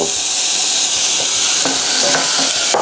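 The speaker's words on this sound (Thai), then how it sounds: "นี่เราก็ผัดไปนะฮะ ให้เขานิ่ม" Vegetables for beetroot borscht stir-fry in oil over low heat, giving a loud, steady close sizzle and hiss. Occasional soft scrapes and taps from a spatula sound beneath it, with no talking.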